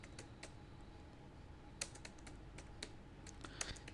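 Typing on a computer keyboard while entering a software download search, with irregular bursts of close, crisp key clicks over a quiet background.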